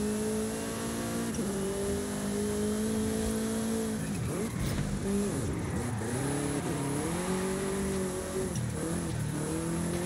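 A car engine in Forza Horizon 5 drifting, revving loudly and continuously, its pitch sweeping up and down as the throttle rises and falls, with a hint of tire noise underneath.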